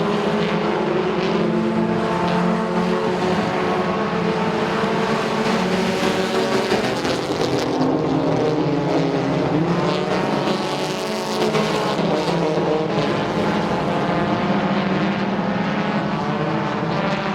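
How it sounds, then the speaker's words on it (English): Race cars roar continuously at the Speedzone short track during a night race, several engines droning and overlapping loudly as a pack battles for position, with no pauses in the engine noise. "Five-car battle for 4th place continuing on."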